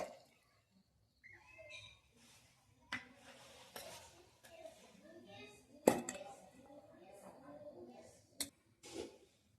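Aloo kabli is mixed with tamarind water in a bowl, giving soft, faint stirring and clinks of utensil against the dish, with a few sharper knocks amid quiet kitchen noise.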